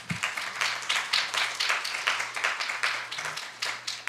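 Audience at a maternal health community panel breaks into steady, dense clapping that lasts several seconds, moderately loud, with a faint low hum underneath.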